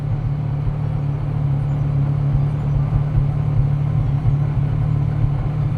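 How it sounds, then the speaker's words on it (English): A custom Porsche Carrera GT-style car idles with a steady, deep, rumbling exhaust, loud and close, running continuously without revving. "Exhaust, of course, sounds incredible."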